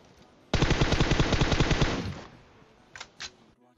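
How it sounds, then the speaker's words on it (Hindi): A rapid burst of automatic gunfire from the video game PUBG Mobile, about a second and a half of tight repeated shots, followed by a couple of faint clicks. "अब मैं गोली चलाता हूं"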